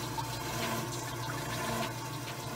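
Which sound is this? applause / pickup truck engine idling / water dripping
water dripping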